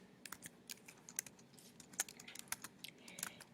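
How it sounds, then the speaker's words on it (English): Soft, quick keystrokes on a computer keyboard while entering an algebra equation, an uneven patter of light clicks in a quiet room, faint and close. "because I'm going to type it again here"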